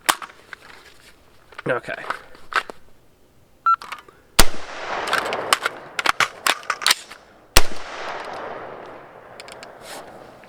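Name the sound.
gunshots from BCA 20-inch retro M16 A4 style rifle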